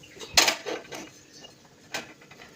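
A lid clanks onto a cooking pot in a home kitchen, with a sharp metallic clatter followed by a few lighter scrapes and a second clink as it settles.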